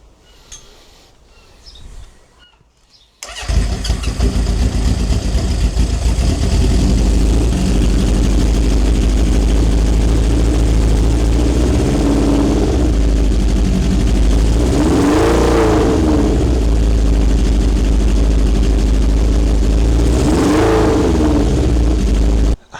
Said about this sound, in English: I can't use the choke, so I'm hoping it will start without the choke, having been warmed up before